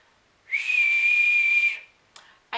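A failed human attempt at whistling that comes out as a thin, breathy, kettle-like tone, one sustained note lasting just over a second, followed by brief soft breath noises.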